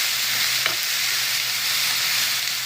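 Banana flower cooking in coconut oil in a pan for a lentil thoran sizzles steadily and evenly, with a soft scrape of stirring and no talking.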